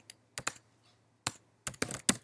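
Crisp keystrokes on a computer keyboard, a few isolated taps then a quick cluster of four or five close, clear clicks over a faint steady hum, with no talking.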